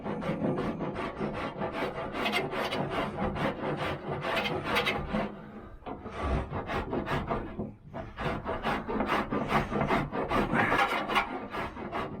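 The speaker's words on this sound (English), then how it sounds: "what you do is sand that down flat" Body filler on the bodywork of a 1985 Camaro IROC-Z is sanded flat by hand, heard as continuous rapid back-and-forth rasping strokes, close and loud, with one brief pause midway.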